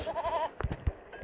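A cartoonish goat bleats in the video game There Is No Game, a wavering two-part bleat in the first half-second followed by a few soft thumps and clicks.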